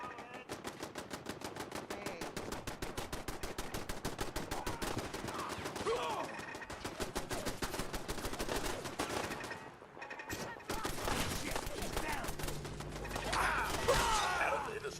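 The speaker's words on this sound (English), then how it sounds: "Taking pop shots at us" Rapid machine-gun fire rattles in long, dense bursts of sharp cracks, briefly dropping out near the end before resuming with heavier, booming shots.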